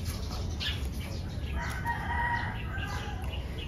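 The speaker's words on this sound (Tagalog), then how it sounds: "May mga ibon na naman." Birds call faintly and repeatedly in the distance, including what sounds like a rooster's crow, over a steady low outdoor hum with no talking.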